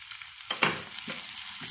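Garlic frying in oil in a pan for Bangladeshi dried jute leaf greens, a steady close hiss with a few soft stirring scrapes.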